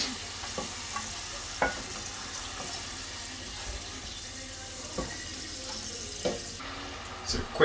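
Homemade french fries bubble and sizzle steadily in hot oil, a dense frying hiss broken by occasional clinks and taps, with no talking.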